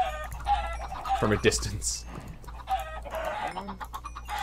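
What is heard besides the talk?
chickens clucking in the video game Minecraft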